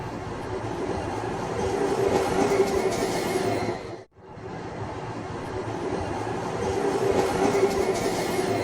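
An elevated train rumbles and clatters steadily past overhead, loud and close, briefly dropping away in the middle before roaring back with rhythmic wheel noise.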